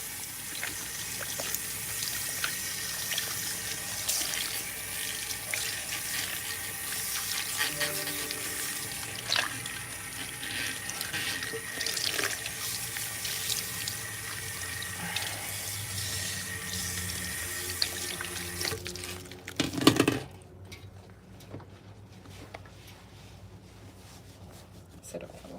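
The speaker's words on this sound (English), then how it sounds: "we're going to use some cool water, which is our final rinse" Cool tap water runs steadily into a salon sink during a final hair rinse, a continuous broadband flow lasting about twenty seconds with a voice talking over it, then cutting off before quieter room sound.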